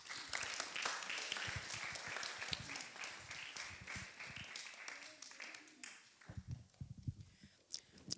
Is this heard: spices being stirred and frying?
no